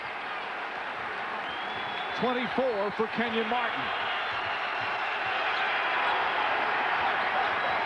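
Basketball arena crowd during overtime of a 2002 NBA Eastern Conference playoff game, Indiana Pacers at New Jersey Nets, a steady loud roar of cheering throughout, with an announcer talking over it partway.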